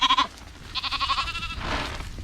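Ewes in a farm pen bleat in short, wavering calls, a couple of close cries followed by a longer quivering bleat, with some rustling and movement underneath.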